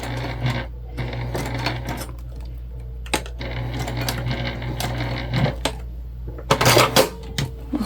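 A sewing machine stitches over a crease on a crossbody bag. Its rhythmic mechanical tapping and clicking comes in uneven bursts over a low steady hum, and it is close and fairly loud.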